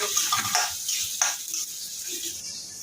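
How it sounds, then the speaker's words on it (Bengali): Spices sizzling in a hot pan for a Bengali ridge gourd and fish curry, with a continuous bright crackling hiss and a few quick stirring scrapes close up. "এখানে মশলাগুলোকে ভাজা ভাজা করে নিচ্ছি"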